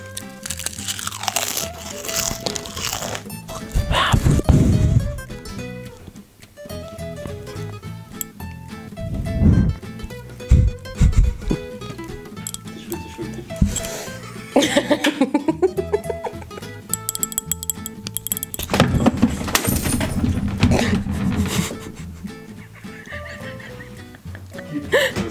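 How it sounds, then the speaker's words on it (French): ASMR mouth sounds made close to the microphone: wet crunching, clicking and smacking noises in irregular bursts, some loud and some soft, continuing throughout with occasional vocal sounds. "Je vous propose maintenant une petite succession de petits bruits de bouche."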